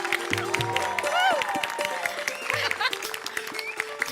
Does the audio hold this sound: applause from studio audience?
yes